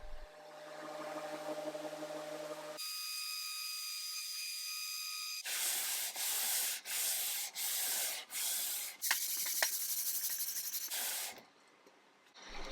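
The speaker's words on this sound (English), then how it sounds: "And because you can never do enough sanding, I did a little bit more of that." Sanding an Art Deco wooden chest of drawers, with several short bursts of rough rubbing in a steady rhythm, loud and close, preceded by hissing noise and a tonal hum, no talk.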